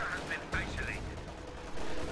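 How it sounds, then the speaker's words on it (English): A bazooka fires in a World War II strategy video game against a Fallschirmjäger model, a loud blast with a short burst of gunfire around it in a noisy battle mix, and a voice comments faintly underneath. "Bazooka snipes a Fallschirmjäger model"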